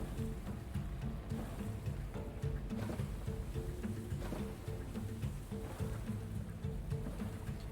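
Continuous splashing and lapping of ocean waves against a moving boat in the survival game Stranded Deep, with a steady low motor-like rumble underneath and no voices.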